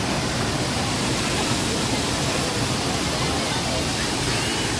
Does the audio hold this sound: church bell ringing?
no